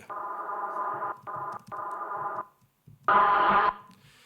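Music filtered into a thin, boxy midrange like an old radio, playing in choppy bursts with a brief gap before a louder, brighter section.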